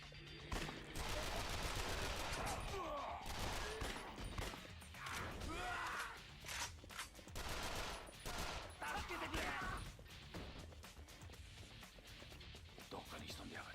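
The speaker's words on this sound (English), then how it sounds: "That good machine gun." Machine gun fire in a video game rattles in dense continuous bursts, loud and sustained, with a voice talking over the shooting throughout.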